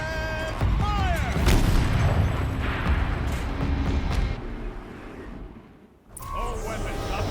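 A turret firing in Horizon Zero Dawn: heavy booming blasts roll through a dense mix of game effects, with a voice talking over them and a brief quiet gap before the din returns.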